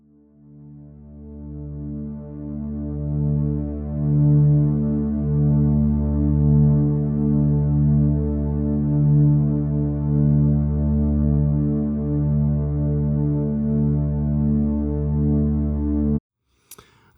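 A sustained, mellow synth pad swells slowly and holds a warm low chord with a soft reverberant wash, its bright top end rolled off, before stopping abruptly.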